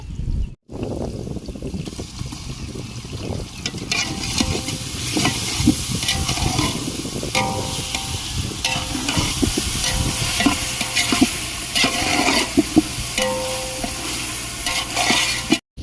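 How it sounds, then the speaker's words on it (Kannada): Onions sizzle in hot oil as ginger garlic paste goes in for palak egg biryani, with steady close frying and stirring scrapes through the whole stretch, no voices. "ಈರುಳ್ಳಿ ಚೆನ್ನಾಗಿ ಫ್ರೈ ಆಗಿದೆ. ಇವಾಗ ಶುಂಠಿ ಬೆಳ್ಳುಳ್ಳಿ ಪೇಸ್ಟ್ ಹಾಕ್ತಾ ಇದ್ದೀನಿ."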